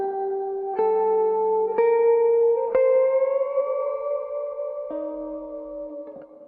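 Electric guitar through a reverb effects unit, a few sustained chords and notes ringing out with long, shimmering decay and echoing tails, played alone without talk.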